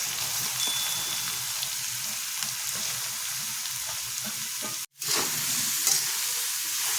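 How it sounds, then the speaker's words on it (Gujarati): Grated carrot roasting in hot ghee for gajar halwa gives a continuous, even sizzle with faint stirring scrapes, close and steady, briefly cut off near the end before resuming; no one speaks. "હવે આપણે ગાજરનું જે છીણ કર્યું છે એ આપણે ઘીમાં શેકી લઈશું।"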